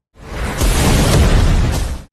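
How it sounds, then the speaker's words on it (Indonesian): A huge explosion booms across a city skyline as two powerful martial arts attacks collide, a loud, dense blast with a rumbling, crackling body that holds for about two seconds and then cuts off, with no voices. "Sebuah ledakan dahsyat menggema di cakrawala kota Ye"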